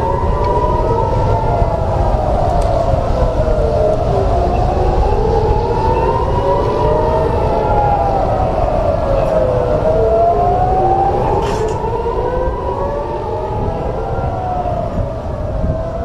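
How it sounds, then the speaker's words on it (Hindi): Air raid sirens in Israel wail continuously during an Iranian missile attack, rising and falling in slow overlapping cycles, loud and sustained with a low rumbling backdrop. "इस वक्त इसराइल में सायरन बजने लगे हैं"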